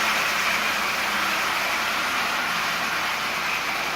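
Marx toy train with a double reduction motor in a 490 body, running fast with a steady high whirring hum and constant mechanical buzz, close and unbroken.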